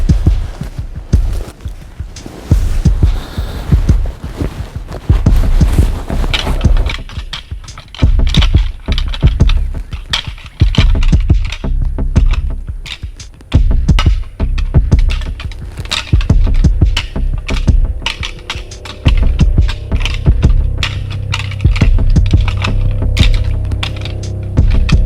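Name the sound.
rattling antlers to attract deer while hunting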